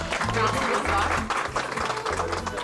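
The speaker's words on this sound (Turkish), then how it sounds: "Alkış" A group claps at a blood donation gathering, the applause running steadily beneath talking voices and a low humming tone.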